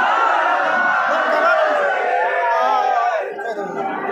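A large, loud crowd of pilgrims gathered at Markandey Mahadev temple, with many voices overlapping in a constant close chatter and calls that thin out slightly toward the end.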